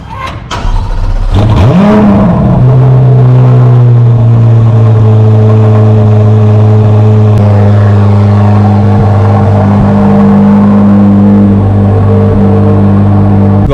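A 2023 Corvette Z06 engine starts with a sharp bark and then holds a loud, steady, close-up rev with a strong low drone, wavering slightly but sustained throughout.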